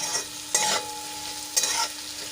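Onion, potato and tomato sautéing in a pan, with a steady low sizzle under two bursts of spoon stirring and scraping against the pan, no talk.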